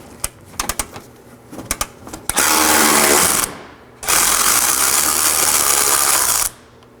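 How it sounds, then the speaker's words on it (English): A 10mm ratchet spins out the headlight bolts on a 2013-2019 Nissan Sentra. After some scattered clicks, two long bursts of fast, buzzing ratchet clicking follow one another closely, with no talking. "I'm going to take the ones on top off first. I'll be using a 10mm."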